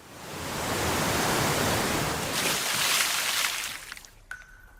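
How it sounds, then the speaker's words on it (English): A waterfall sound effect: a broad roaring rush of falling water builds, holds loud and steady, then fades away near the end, with a brief tone after it. "water from the waterfall falls on top of them"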